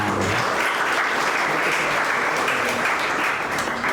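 Dense, steady audience applause at a homeopathy seminar for general practitioners, a continuous wash of many hands clapping that holds at full strength with no pause throughout.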